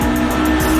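A car roars past in a steady, loud flyby with a strong engine drone that holds throughout the short clip.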